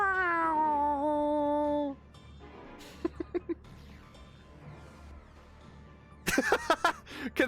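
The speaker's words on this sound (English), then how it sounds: "It sounds like a cat meowing in the background." Music from the game Final Fantasy XIV: Endwalker carries a gliding, wavering tone that resembles a cat meowing, loud at first, then giving way to quieter plucked notes and a louder burst near the end.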